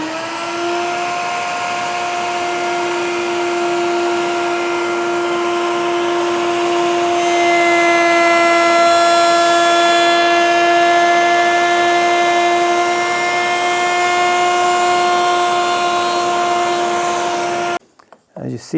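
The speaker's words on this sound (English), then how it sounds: "Let me hook my dust collection and we can do our test cut." A router on a router table makes a test cut with dust collection running: a loud, steady tonal whine and rushing air hold close for most of the time, then cut off abruptly, with a voice speaking over it.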